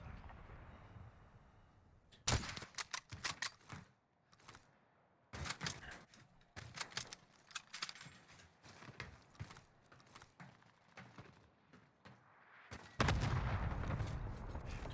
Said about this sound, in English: the enemy's launching a random cluster strike on top of the roof next to you